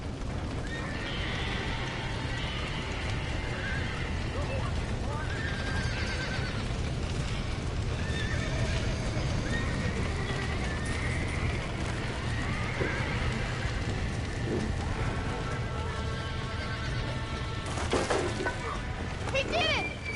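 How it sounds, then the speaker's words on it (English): Horses whinny and neigh repeatedly amid a chaotic scene, their hooves clip-clopping underneath while people shout urgently in the background throughout. "Somebody get them horses out!"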